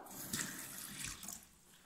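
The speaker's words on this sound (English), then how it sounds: "running water," A sink tap runs water in a faint, steady splash that fades slightly toward the end, with no voices.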